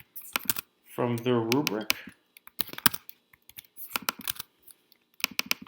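A computer keyboard typed on in quick bursts of crisp clicks, with a short stretch of speech near the start and brief gaps between the bursts.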